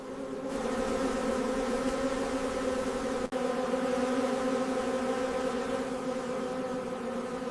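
Swarms of honey bee workers drone steadily around their hive, a dense, continuous buzz holding level, with one brief click partway through.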